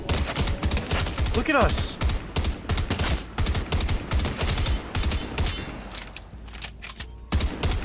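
Rapid SMG fire in Fortnite, bursts of sharp shots repeating in quick rhythmic volleys with brief gaps, while a voice talks over the action.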